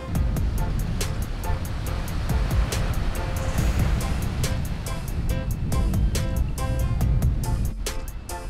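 Steady ocean surf rolling in at Cabarete beach on the north coast of the Dominican Republic, a loud continuous wash of breaking waves with a constant broadband roar throughout, no one speaking.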